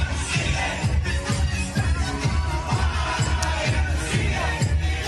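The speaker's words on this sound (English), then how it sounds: "Like here is a large crowd dancing in the street of Los Angeles," Large crowd dancing in a Los Angeles street, a steady loud din of voices and cheering over a pounding rhythmic bass beat, with a continuous dense, lively roar.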